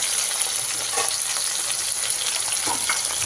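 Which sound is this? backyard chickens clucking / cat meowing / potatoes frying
potatoes frying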